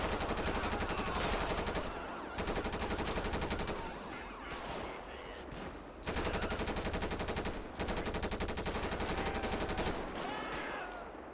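Rapid automatic gunfire in a video game as police special forces shoot at the player, long loud bursts broken by short pauses, with no talk over it.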